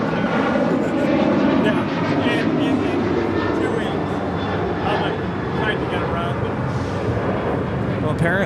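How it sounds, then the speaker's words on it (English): An Air Canada Boeing 737 MAX 8 bound for Montreal departs LAX with a loud, sustained jet-engine roar that swells early and then eases slightly, while people talk over it. "Air Canada flight 776 heading to Montreal on a 737 MAX 8."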